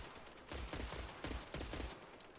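Gunfire in the PC video game Sniper Ghost Warrior 3: several sharp, booming shots in a row, loud and close, with no talking over them.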